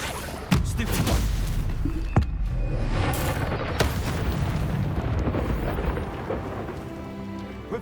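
An Incendio fire spell is cast in Hogwarts Legacy, a loud rumbling whoosh of flame with booming bursts over dense game sound effects, continuous and full throughout.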